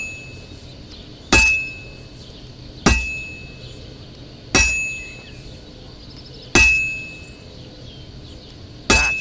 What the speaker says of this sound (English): if it was all about hitting an anvil with a hammer, any dolt could do it